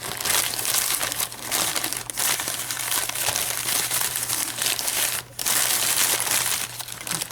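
Plastic and paper packaging is crinkled and torn open to unwrap a box of padlocks. Close, busy rustling and crunching runs almost without a break, with one brief lull partway through, and no speech.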